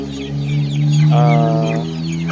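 A Joloano or Basilan chicken, a large, muscular native breed, clucks loudly and close by in a drawn-out call, with a low steady hum underneath.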